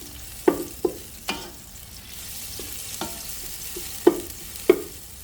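Carrots and peppers stir-fry in a pan for chow mein, with a soft continuous sizzle broken by several sharp spatula scrapes and taps at irregular intervals.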